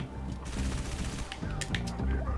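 A suppressed SMG fires in a Halo video game. Rapid, muffled automatic bursts sit in a dense mix of in-game sound effects, steady and moderately loud throughout.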